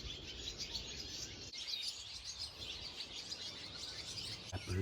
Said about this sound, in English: That bird you see there, they're called barn swallows.